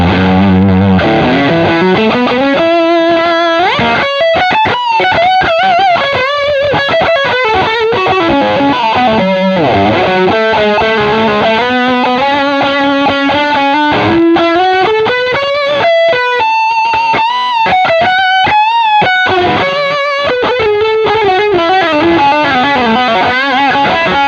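Electric guitar played through stacked Tube Screamer-style overdrive pedals with every pedal switched on, giving a loud, heavily distorted, sustained tone with chords and bending melodic lines over about twenty-four seconds and no talking.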